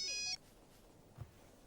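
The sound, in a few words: mobile phone ringtone ringing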